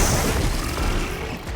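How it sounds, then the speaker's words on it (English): A Plasma Blast detonates in Horizon Forbidden West, a loud, dense, rumbling burst that fills the whole moment and slowly eases off. "once the Plasma timer goes down, you'll get a nice Plasma Blast at the end"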